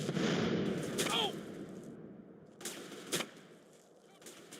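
Gunfire in the game Grand Theft Auto San Andreas, a few sharp scattered shots over game ambience with brief voice fragments, moderately loud and spaced apart.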